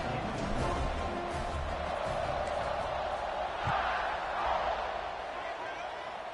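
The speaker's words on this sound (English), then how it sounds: "this crowd is buzzing after that last score" A stadium crowd at a college football game between Alabama and Florida keeps up a dense, continuous roar and murmur after a score, loud and steady with slight swells, heard alone without clear voices on top.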